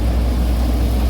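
An NVT/GNT groundnut thresher, driven by a Mahindra 265 DI tractor, blowing out chaff: a loud, close, unbroken mechanical roar and whir with a steady low hum and no pauses.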